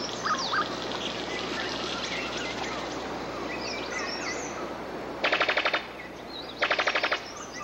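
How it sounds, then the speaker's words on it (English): A brown sicklebill bird of paradise in the New Guinea forest gives two loud, rapid machine-gun-like rattling bursts near the end, standing out from a dense background of chirping and whistling forest birds. "A brown sicklebill bird of paradise."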